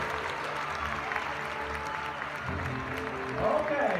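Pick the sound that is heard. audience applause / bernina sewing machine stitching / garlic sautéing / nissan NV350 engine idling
audience applause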